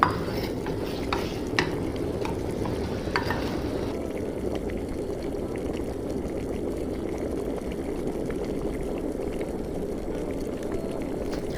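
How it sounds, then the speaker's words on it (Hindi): A spoon stirs spiced masala karak chai water in a pot, a continuous close scraping and swirling of liquid with faint bubbling underneath, a few sharper clinks early on, then an even, steady churn. "अब इस तरह से हम चमचे से इसको हिलाएंगे"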